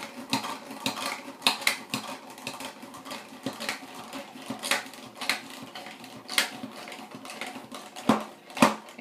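Mozzarella cheese is rubbed up and down on a Pampered Chef cheese grater with gentle pressure. It makes a steady, fairly quiet series of rasping scrapes in an uneven rhythm, with no talking.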